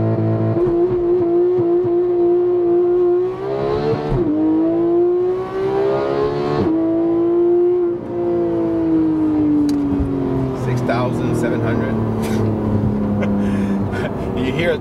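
A 2015 Porsche GT3 accelerates on a smooth street while hunting for traction, its loud engine note rising in pitch, dipping at each shift, then climbing again over about fifteen seconds, heard close and continuous.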